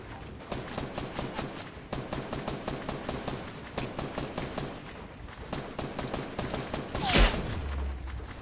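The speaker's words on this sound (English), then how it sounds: "Someone just sniped this guy." Video-game gunfire in Fortnite: dense rapid volleys of shots repeat steadily for several seconds, then one sharper, louder crack stands out near the end, with no talking.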